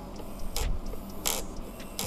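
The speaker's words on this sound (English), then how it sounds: "it's on right now and it is making a really weird noise" An RC car steering servo makes a weird noise while powered on and failing to move. Faint rhythmic whirring and buzzing with brief louder grinding bursts repeat under a low hum, with no talk.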